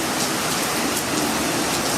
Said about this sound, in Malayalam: നല്ല മഴ ഇട്ടാ ദുബായില്